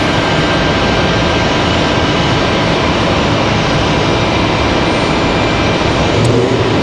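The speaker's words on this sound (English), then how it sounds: "American 1441, that A320 headed to Philadelphia." An American Airlines A320 departing Raleigh-Durham International on a summer day produces a steady broadband jet roar, loud and unbroken throughout, with no voices over it.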